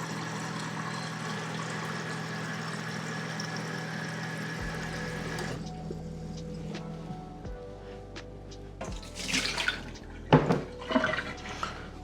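Water dispensing from a Kenmore refrigerator door into a glass after a new water filter is installed, a steady pouring stream followed by a few faint clinks and splashes near the end.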